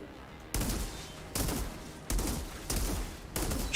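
An automatic sniper rifle in Outriders fires five sharp, loud shots in a steady rhythm about a second apart, each cracking out and then dropping back to a low background.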